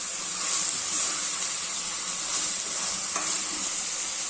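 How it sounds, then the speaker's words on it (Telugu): Sliced onions sizzle steadily in a hot pan after salt is added, with a continuous bright hiss and faint stirring scrapes throughout, close and without any voices. "గోల్డెన్ కలర్ వచ్చేంత వరకు ఫ్రై చేసుకుందాం."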